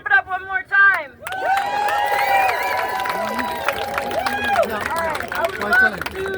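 A rally crowd in New Jersey breaks into loud, sustained clapping mixed with whoops and cheers. The noise swells right after a short spoken line and stays dense to the end.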